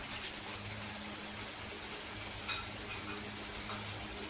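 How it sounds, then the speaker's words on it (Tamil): A pot of curry simmers quietly, oil rising to the surface, with soft bubbling and faint sizzling under a low steady hum, with no voices. "குழம்பு கொதித்து நல்லா எண்ணெய் தெரிஞ்சு வருது."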